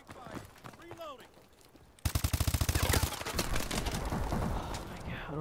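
Rapid automatic gunfire in Call of Duty multiplayer, a fast, even burst of loud shots starting abruptly partway through and continuing with more scattered firing, after a quieter stretch with speech-like sounds.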